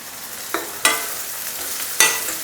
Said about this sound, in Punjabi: ਹੁਣ ਪਿਆਜ਼ ਨੂੰ ਆਪਾਂ ਚੰਗੀ ਤਰ੍ਹਾਂ ਭੁੰਨਾਂਗੇ